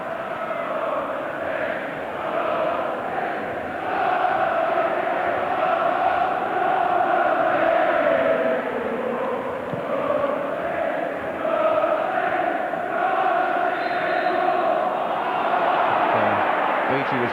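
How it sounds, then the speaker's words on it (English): Home crowd at a Southampton FA Cup third-round match against Newcastle United in 2004, a broad, steady stadium roar of grumbling voices swelling and easing throughout, with a commentator talking over it. "The home crowd getting a bit frustrated."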